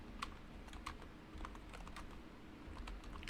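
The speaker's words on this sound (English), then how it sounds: "we are going to type it in" Fast, steady clicking of keys on a computer keyboard, faint and continuous, with uneven bursts of keystrokes against a low background hum.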